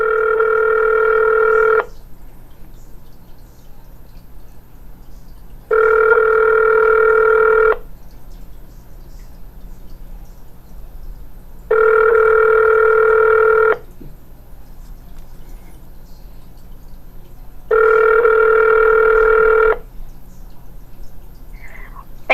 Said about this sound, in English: Your call is now being forwarded.